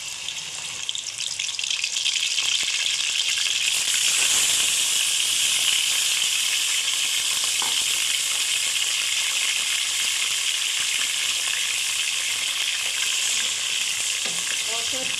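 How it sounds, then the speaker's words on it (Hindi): Chicken frying in hot oil in a kadai, a loud, steady sizzle with stirring scrapes that runs unbroken throughout, close up and with no talking. "कढ़ाई में डालकर अच्छे से गर्म कर लिया है। अब हम इसके अंदर चिकन ऐड करेंगे।"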